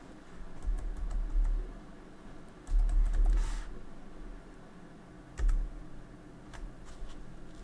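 Someone types a command on a computer keyboard to set up Windows 11 in VirtualBox. Three short bursts of quick, close key clicks are separated by quieter pauses, with no voice.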